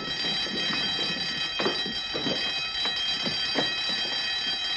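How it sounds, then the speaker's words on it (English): An alarm rings steadily as a continuous high electric tone, moderately loud, with scattered footsteps and bumps beneath it. "Turn off the alarm."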